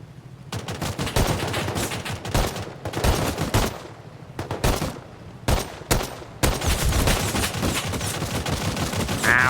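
Rapid bursts of automatic gunfire in the Rust video game, loud and close, several long volleys separated by brief pauses, with no talking over the shots.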